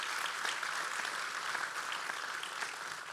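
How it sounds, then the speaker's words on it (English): Sustained applause from a crowd at a Marine Corps birthday ball at the Marines' Memorial, a dense steady wash of many hands clapping at a constant level with no talk. "So a round of applause for the staff."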